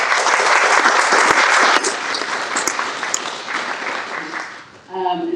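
Loud, dense applause from an indoor audience at a Pride at Work Winter Pride event, sustained and close, then tapering off as a speaker's voice returns at the end.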